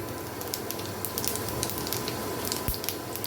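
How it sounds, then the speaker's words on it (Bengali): Whole cumin seeds sizzle in hot oil left over from frying, a steady crackling hiss with scattered pops, near and moderately loud, no voices. "এখন আমি ওই একই তেলের মধ্যে দিয়ে দিব গোটা জিরে ফুরনি"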